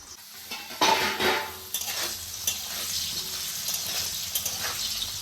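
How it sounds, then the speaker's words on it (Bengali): Potatoes fry in hot oil in a pan while being stirred for a spicy jackfruit (echor) recipe, with a steady close sizzle, scraping utensil strokes and a few clinks, and no talking. "আলুটা ভাজা ভাজা হয়ে গেছে"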